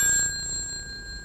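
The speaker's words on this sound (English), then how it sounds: "the ringer is one or two small metal bells, which are repeatedly struck by an even smaller metal clapper" A telephone ringer with one or two small metal bells struck rapidly by a tiny clapper gives a bright, sustained metallic ring that is loud at first and then eases slightly as it fades.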